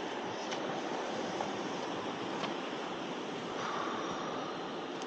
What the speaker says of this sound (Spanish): Trabaja la mar muy mal.